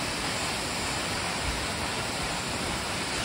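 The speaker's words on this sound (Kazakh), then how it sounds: "түсіп жатқан судың дауысы" Tew Falls, a waterfall where a small river drops from a height: a steady, broadband roar of falling water, continuous and even, with no voices or other sounds over it.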